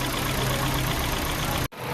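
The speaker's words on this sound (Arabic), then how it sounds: "الموتور داير اهو" An Opel Astra's engine, which is losing coolant, idles in a steady, loud, even drone up close, then cuts off abruptly near the end.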